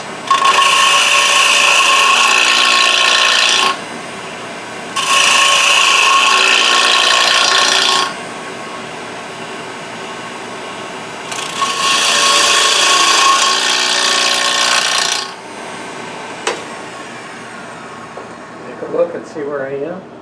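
Wood scraping on a lathe while turning a sushi dish, heard as three loud, sustained bursts of broadband rasping of about three to four seconds each, separated by quieter stretches with faint tool sounds and a few clicks.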